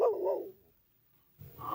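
A dog in a werewolf film scene gives a single deep bark, followed by a brief pause and then a low growling rumble.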